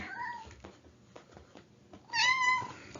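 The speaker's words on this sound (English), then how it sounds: "There's my cat." A cat meows loudly and close by near the end, a drawn-out call following a stretch of quiet room sound with faint clicks.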